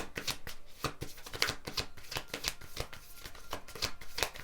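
Tarot cards are shuffled by hand in quick, soft riffling bursts, close and quiet, with no talking over them.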